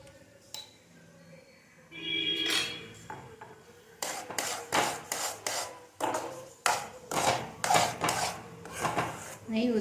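Semolina being stirred with ghee in a pan for white kesari, a spoon scraping and rubbing against the metal in repeated close strokes, loud and rhythmic throughout.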